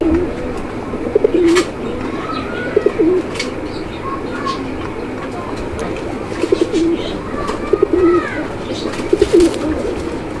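Soft, repeated pigeon coos in short rhythmic bursts at a pigeon seller's, several calls spaced across the clip over a steady background hum, no talking.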